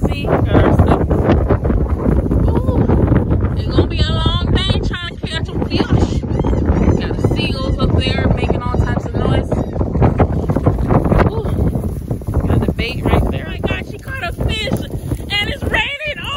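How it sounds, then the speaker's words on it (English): Strong wind blows outdoors while people fish, roaring continuously and buffeting the microphone hard, with voices talking over it throughout. "The wind is crazy."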